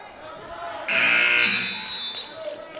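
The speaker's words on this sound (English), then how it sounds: "the buzzer is literally right over us, so it's going to sound pretty loud" A loud electronic buzzer sounds from directly overhead in a gym during a girls' high school basketball game, a harsh steady blare lasting over a second above crowd chatter and a commentator's voice.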